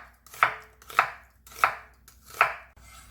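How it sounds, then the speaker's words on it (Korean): A knife chops a quarter onion on a cutting board in four evenly spaced, crisp strikes, close and alone. "양파 4분의 1개 썰어줍니다."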